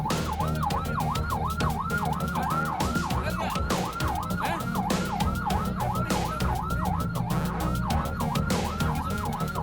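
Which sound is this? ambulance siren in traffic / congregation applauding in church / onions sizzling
ambulance siren in traffic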